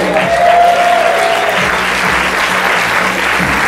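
A theater audience at a stage play applauds steadily in dense, continuous clapping that stays loud for a few seconds, with a low musical tone underneath.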